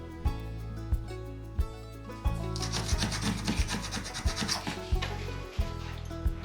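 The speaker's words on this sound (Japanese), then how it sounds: "細かな傷や巣穴などはハードワックスで埋めていきます。" Hard wax is rubbed into small scratches and holes in wood during a vanity cabinet repair, giving a steady close scraping and rubbing with periodic sharper knocks and a louder gritty passage in the middle.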